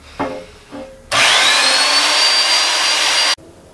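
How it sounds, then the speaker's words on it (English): A portable bandsaw cuts through chromoly steel plate after two short knocks, giving a loud, steady, whining grind for about two seconds before it stops abruptly. "here's a rough cut with a portaband just to get them out of the plate"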